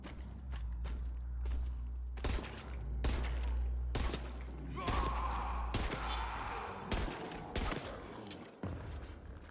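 Pistol shots ring out one after another in Dying Light: The Beast, sharp and close, spaced irregularly over a low droning game ambience with faint footsteps and clatter.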